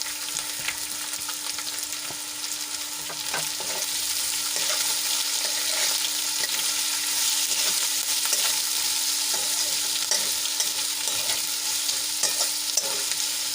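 Chillies, sliced onion and potato sizzle steadily in a pan, a continuous moderate frying hiss with light stirring scrapes, no voices.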